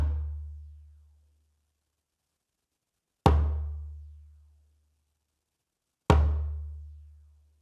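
Three deep, booming bass strikes on a djembe, each hit in the center of the skin and ringing out alone, spaced roughly three seconds apart.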